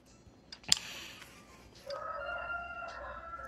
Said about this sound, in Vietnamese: Trời ơi, gà gáy.